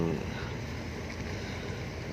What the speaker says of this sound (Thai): เรียกว่าเรือลากคู่นะครับท่านผู้ชมครับนะครับ ลำนี้กำลังออกหาปลานะครับ